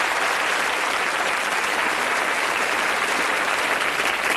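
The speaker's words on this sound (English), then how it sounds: "Give them a nice round of applause." Studio audience applause on the Bullseye game show, a thick, even wash of clapping from a full crowd sustained at steady loudness without a break.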